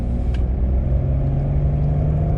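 A Peugeot 406 Coupe pulls away from 50 km/h at full throttle in third gear, its engine a loud, steady, deep drone that holds without a break, with no voices over it.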